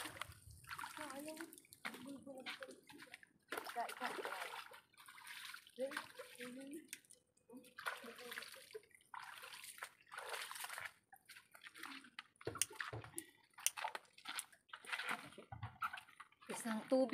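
Water is poured and sloshed into a pot while preparing seafood cooked in coconut milk, in intermittent splashing bursts alongside children's and adults' voices talking nearby.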